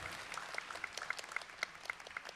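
Faint applause from an audience at a Buddhist charity auction in a Seattle convention-center hall, with soft, regularly pulsing claps heard from a distance at low volume.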